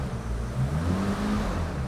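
A restored BMW E31 850 with its V12 engine idles steadily up close, a smooth continuous low hum with a brief slight rise in revs midway and no other sounds.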